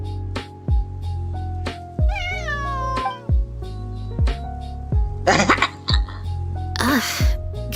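A cat meows repeatedly in the video game Genshin Impact, a few clear rising and falling mews sitting over steady game music with soft percussive ticks.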